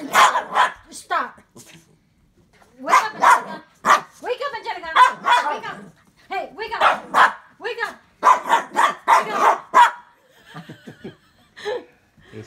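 A dog barks and growls in short repeated bursts up close, mixed with people laughing and talking.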